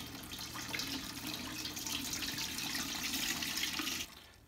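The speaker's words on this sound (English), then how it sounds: "So we are just gonna strain the water" Homebrew mash water streams through a cheesecloth strainer in a steady, close rushing pour that lasts about four seconds and then stops suddenly, leaving a faint trickle.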